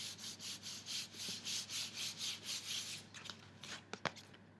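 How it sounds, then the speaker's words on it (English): Craft foam for a gauntlet armour piece being rubbed down flat by hand, a steady run of about a dozen soft rhythmic rubbing strokes up close, then a few light scattered taps and handling noises. "Lay it on, rub it down."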